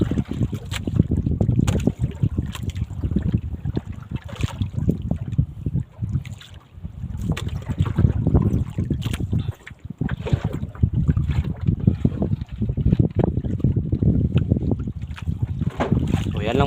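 Small fishing boat running on open water, a continuous engine drone mixed with wind buffeting the microphone and splashing water, with talk over it.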